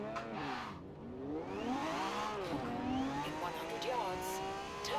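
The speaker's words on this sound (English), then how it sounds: "You can already hear those turbos spooling up back there." A Lamborghini Diablo GTR in Forza Horizon 4 revs hard, its engine tone sweeping up and down as the turbos spool, a steady loud roar with a voice speaking over it.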